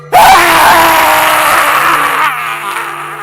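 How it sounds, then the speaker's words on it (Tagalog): A loud, sustained scream rings out from a forest as an audio-drama effect, starting suddenly, holding for a couple of seconds, then trailing off into a fainter tail. "may marinig kaming malakas na boses ng sumigaw"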